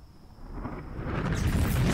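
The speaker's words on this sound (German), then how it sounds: "Ich kann ihn nicht in Sicherheit bringen, bevor ihn das Wasser kaputt macht." Water surges over a generator in the video game Dead Synchronicity, a rising, roaring gush that swells louder over two seconds before cutting off.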